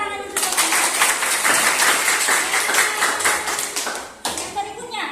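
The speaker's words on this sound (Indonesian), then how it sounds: "tepuk tangan untuk mereka" Classroom applause: a burst of many hands clapping quickly and loudly nearby, sustained for about four seconds before tapering off, with a brief resurgence of claps at the end.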